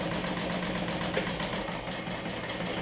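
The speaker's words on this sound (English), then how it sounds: "I'm top stitching the seam allowance with 1/8 of an inch away from the center seam" A sewing machine top stitching a seam allowance on a front pocket, its motor running in a fast steady rhythmic whir, close and continuous.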